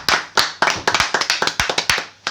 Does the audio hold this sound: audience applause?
yes